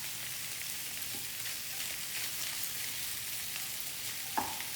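Already-cooked meat heating in a pan makes a continuous frying sizzle with a faint scrape near the end, steady and close with no talking.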